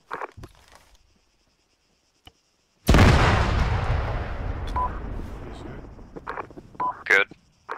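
Flak gun fire in the Arma military game: a single heavy burst erupts and decays over several seconds, followed by scattered pops and radio-like beeps, with brief speech before it.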